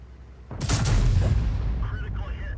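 A tank cannon in World of Tanks fires an armor-piercing round, one sharp loud boom that rolls into a long rumbling tail, followed by faint mechanical whines.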